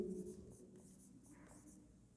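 Marker or chalk scratching points onto a classroom board during a reasoning lesson, a soft steady scrawl of short strokes in a quiet room with faint tonal background hum.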